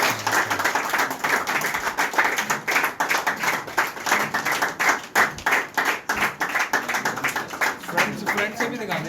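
Applause at a cricket kit award ceremony in a private residence, a crowd clapping steadily and fairly close throughout, the claps dense and uneven, with a voice speaking over them.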